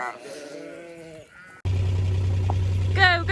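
Sheep bleat on a farm during lambing season, several wavering calls nearby, then a steady low engine-like hum comes in under more bleats.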